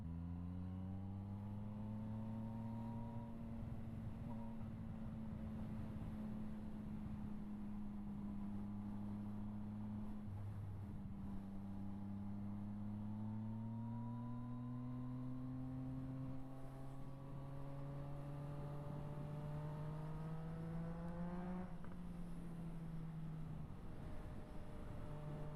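Engine of a 2018 Yamaha XSR900 motorcycle fitted with a Yoshimura R77 full exhaust, idling steadily and loud throughout, with a low throb whose pitch slowly rises and falls as the throttle is gently blipped.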